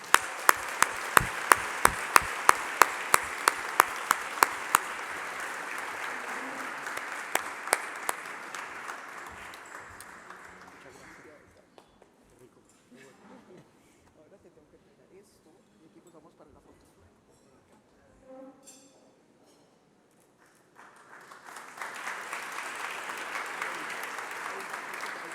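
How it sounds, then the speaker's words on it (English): Audience applause at a leadership dialogue event, a dense burst of clapping for about ten seconds that fades out, then a quiet stretch before a second round of applause rises again near the end. "please accompany me with an applause to invite Jaime to the stage"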